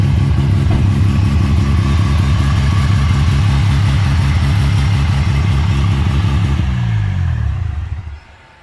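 A car fitted with a titanium TQ exhaust idles in a steady, loud, lumpy burble with a rhythmic throb for several seconds, then the engine note changes and cuts off near the end.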